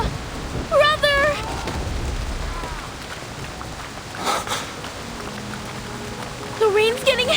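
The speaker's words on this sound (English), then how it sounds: "The rain's getting heavier!" Heavy, steady rain hisses throughout a scene in the video game Reverse: 1999, a constant wash of downpour with voices speaking over it in bursts.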